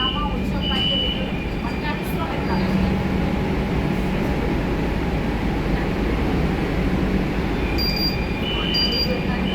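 A Kolkata metro train running between Behala Taratala and Joka, with a steady loud rumble and rolling hum heard from on board, faint high tones and occasional clatter over the continuous drone.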